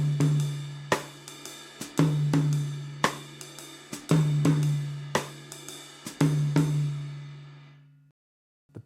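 Close, clear jazz drum kit phrase with a Latin jazz feel: crisp hi-hat and rim hits over repeated low tom strokes that ring and sustain in unison figures, then decay into near silence before a final hit.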